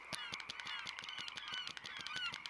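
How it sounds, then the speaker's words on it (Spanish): Birds call over and over, loud honking cries like geese or other fowl, overlapping in a steady chattering flock with no talking. "Y aves."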